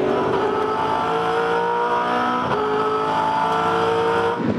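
George Miedecki's Scitech Ford V8 Supercar racing at Ipswich in 2012, heard on board. The engine holds a loud, steady high-pitched drone with brief dips at gear changes, alone with no talk.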